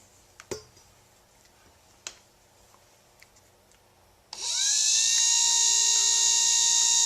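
A homemade magnet motor fitted with bar magnets and narrow magnets in a Stargate-style retainer starts up after a few faint clicks, quickly rising into a loud, steady, high-pitched whine as it spins at roughly 3,500 RPM.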